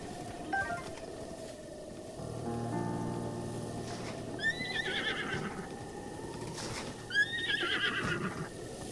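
Horse whinnies twice in a Zelda: Breath of the Wild game scene, the second call higher and shrill, rising above a steady bed of ambient game sound with a faint hoof clop.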